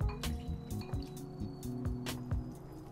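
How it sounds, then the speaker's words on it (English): Water is poured into a bowl of waffle batter, making faint, quiet dribbling and splashing drips with soft wet squishes, heard close up. "However, I'm gonna add some water to it."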